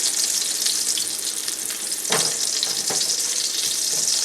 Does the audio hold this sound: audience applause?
no